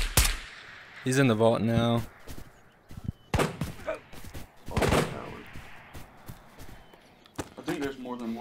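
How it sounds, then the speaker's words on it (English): Bursts of gunfire from two different guns ring out in the VR shooter Ghost of Tabor during a vault raid, sharp repeated shots at mid distance mixed with footsteps, while players talk over the action. "there's two guys just firing two different guns"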